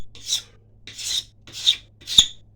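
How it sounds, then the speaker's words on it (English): A paint scraper is dragged down the back of a black locust bow stave in four steady, close, loud rasping strokes at an even pace. "I'm scraping down the back to get to a good growth ring. And I use a paint scraper."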